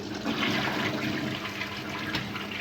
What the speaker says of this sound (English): How the hell does this toilet work?